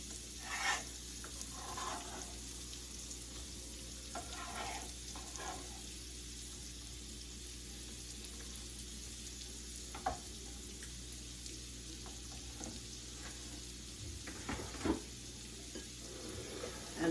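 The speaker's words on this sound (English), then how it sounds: "in the same pan that I cooked my sausage and onion, or my sausage, carrot, and cabbage, I am going to be cooking up all of these onions" Onions frying in a pan previously used for sausage, carrot and cabbage, a soft, steady sizzle running throughout with occasional stirring scrapes and small clinks, fairly quiet and close, no talking.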